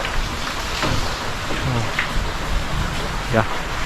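Rain comes down steadily outdoors on a fishing outing, with a broadband hiss throughout and a few faint tonal calls or voices poking through; thunder is not clearly distinct.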